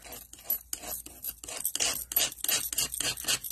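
A spatula scraping stencil butter off a craft platform in quick rhythmic strokes, a dry rasping scrape repeated about a dozen times, close and fairly loud with no talk.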